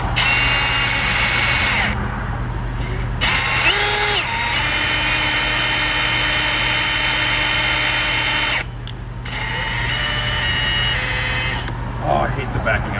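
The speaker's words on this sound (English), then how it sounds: "So we drilled this hole out." A drill boring a hole for the dowel pin of a Vortech supercharger pulley on a Dodge Scat Pack, running loud and steady in several bursts with short pauses, over a constant low hum, with people talking around it.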